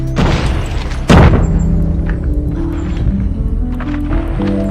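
Grenade explosion in COD Mobile, a sudden loud broadband boom about a second in, set against continuous game noise and sound effects.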